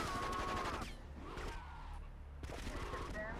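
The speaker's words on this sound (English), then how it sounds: "I shoot this cop." Gunfire from shooting a police officer in GTA Vice City, a couple of sharp shots amid loud game noise and a steady low hum, with talking running over much of it.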